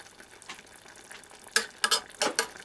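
An egg frying quietly in a pan, a soft, faint sizzle broken by a few louder spatula scrapes and taps near the end.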